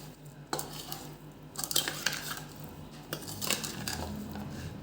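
Potatoes being mixed with garam masala and peanut oil for bhungda bataka, giving scattered scrapes and clinks of a spoon against a pan, with a few sharper knocks, close by and fairly quiet, no voices.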